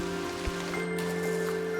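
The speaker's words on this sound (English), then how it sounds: "we don't often get rain like this" Heavy rain pours steadily at a medieval castle excavation in Britain, a dense, even hiss of a downpour filling the short stretch with no voices.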